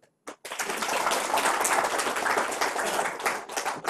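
Sustained applause from an audience, dense clapping filling the room for a few seconds after a couple of isolated claps.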